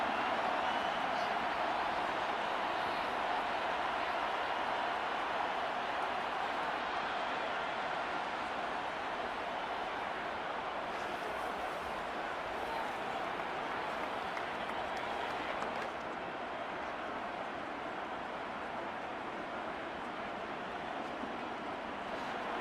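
Stadium crowd in the Madden 23 football game cheering and shouting in a continuous dense roar, steady and fairly distant throughout, with no clear voices standing out.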